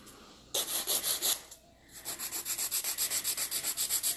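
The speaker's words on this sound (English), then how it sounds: "So I'm just using Ugly Duckling's coarse file right now, which is a 100 grit file." A coarse 100 grit nail file rasps back and forth on a nail in quick, even strokes, close and crisp, pausing briefly before settling into a fast steady rhythm.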